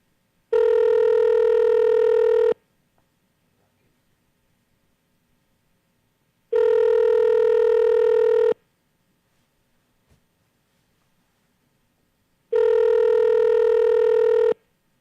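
Telephone ringback tone on an unanswered call, three loud two-second rings evenly spaced with silence between them and no voices.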